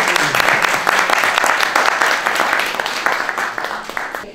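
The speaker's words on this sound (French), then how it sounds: "Que l'on peut applaudir aussi." Audience applause at a literary evening, dense and steady clapping from a crowd that carries on throughout and fades slightly toward the end, with a few voices mixed in.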